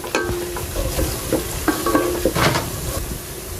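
Whole cloves, cinnamon, cardamom and bay leaves fry in hot oil for beef tehari, with a steady close sizzle and repeated stirring scrapes throughout, no voices.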